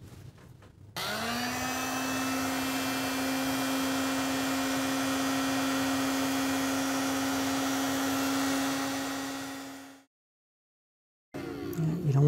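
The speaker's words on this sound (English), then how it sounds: "I'm going to turn my heat gun on low And I'm going to put a little bit of heat along the edge just to lift up that glue" A heat gun on its low setting, warming hot glue along the edge of a SABNEO V7 Warrior speaker's soundboard, gives a steady close blowing whir with a constant hum tone for about nine seconds, then cuts off abruptly.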